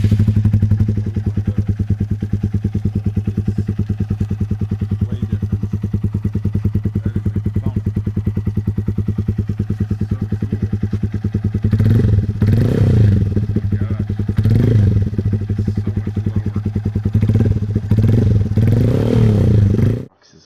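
A 2015 Honda Grom motorcycle fitted with a Brock's Short Meg exhaust idles steadily and close by, with a lumpy, pulsing rhythm. It blips the throttle several times near the end before cutting off.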